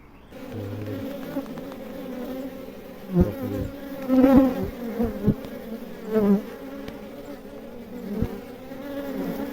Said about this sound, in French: Il y a quand même beaucoup de faux bourdons là.